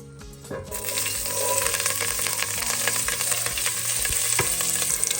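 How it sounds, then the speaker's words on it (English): Green chilies and coriander hitting hot leftover oil after roasting peanuts, a quiet start that bursts into a loud sustained sizzle with clinking spatula stirs and crackles. "In the remainder of the oil, I'm going to add green chilies and coriander"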